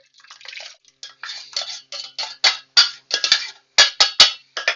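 Chilled custard poured into a hand-crank ice cream maker, a run of irregular wet splashes and glugs with short gaps, close and fairly loud, with no talk over it.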